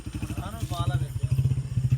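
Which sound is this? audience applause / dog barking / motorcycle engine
motorcycle engine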